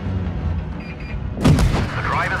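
A tank cannon fires in the game WoT Blitz and the shell penetrates enemy armor, a sudden heavy boom about halfway through that follows a low rumbling engine.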